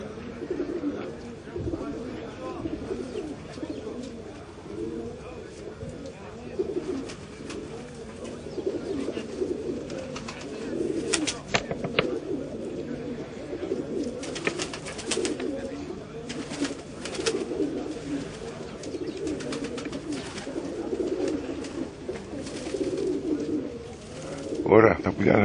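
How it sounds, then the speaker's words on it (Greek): Pigeons coo steadily overhead outdoors, a continuous low rolling chorus of calls lasting throughout, with occasional brief rustles and thumps. "Βρήκα κανένα δυο περιστερία εδώ από πάνω."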